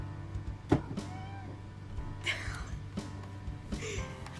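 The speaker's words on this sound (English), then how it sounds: "What are you meowing about over there?" A pet cat meows a few times in a home during a livestream, short faint calls off to the side amid room noise and background sound, with no one talking over it.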